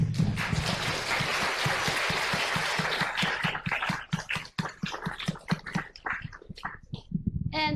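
A lecture audience applauds at the end of a talk on the end of Moore's Law, with dense, loud clapping that thins into scattered claps over the final seconds.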